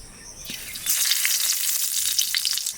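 Nigella seeds and dried chillies hit hot oil as a tempering for kochu shak with hilsa fish head, a quiet moment breaking into a loud, bright, hissing sizzle that crackles on steadily.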